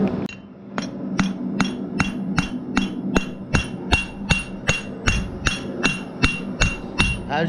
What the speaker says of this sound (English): As I hammered it down, I got that first section set.